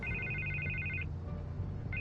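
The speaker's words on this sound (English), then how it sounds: "I can't get the phone to stop ringing." A telephone rings in the Telltale Batman video game: a bright electronic trilling ring that sounds for about a second, breaks off, then starts again, over a low steady background hum.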